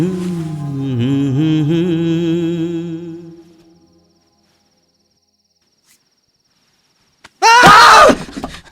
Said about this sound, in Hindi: अरे तू क्यों चिल्लाया बे?